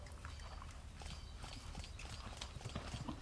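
Horse hooves clip-clop steadily on the ground in an outdoor setting, a fairly faint, continuous rhythmic patter with no voices over it.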